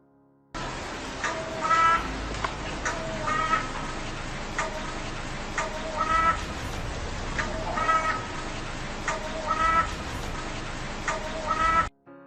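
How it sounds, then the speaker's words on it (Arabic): A crow caws in repeated harsh, nasal calls. The calls are spaced every second or two over a steady outdoor background noise. "رابعا، الغراب. من الطيور التي لا نحب سماع صوتها"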